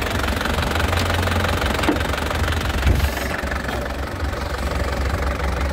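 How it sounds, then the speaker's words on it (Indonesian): A 2012 silver LV Turbo idles with its engine already warm, giving a steady, close rumble and a rattly, knocking texture that holds throughout. Nobody speaks. "Tuh, mesinnya sekali masih cegreng ya."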